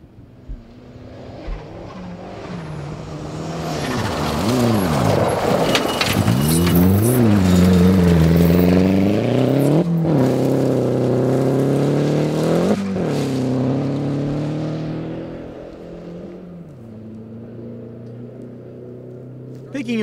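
Rally car on the final stage of the 2012 Olympus Rally, engine swelling as it approaches, brakes and corners with rising and falling revs, then fades away; a commentator speaks under part of it.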